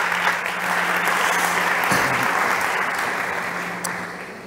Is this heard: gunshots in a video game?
no